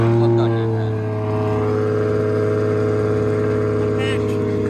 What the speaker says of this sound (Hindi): गाड़ी की आवाज़ चेक कराएं जरा।